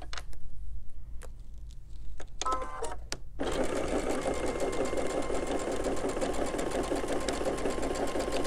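A sewing machine stitches a short seam at a corner, first a few isolated clicks and taps, then a steady, close, continuous whirring run of rapid stitching.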